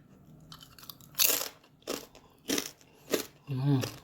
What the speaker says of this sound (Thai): ชิมหนังสักหน่อยนะฮะ ให้ดูความกรอบนะครับ